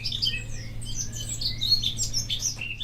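A Eurasian blackcap sings in the wild, its clear, rapid warbling phrases and bright chirps repeating fairly close over a quiet outdoor background.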